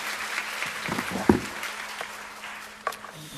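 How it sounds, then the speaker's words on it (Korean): Scattered applause from an audience at a political lecture event, fairly faint and thinning out, with a couple of sharper isolated claps and a low steady hum beneath. "김영주 위원장 큰 박수 부탁드립니다."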